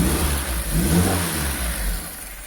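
A Peugeot 205 GTI with an idle control fault gets a quick throttle blip: the engine note swells briefly, then settles back to a steady, loud, close idle hum.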